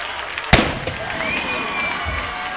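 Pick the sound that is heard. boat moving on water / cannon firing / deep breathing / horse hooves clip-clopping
cannon firing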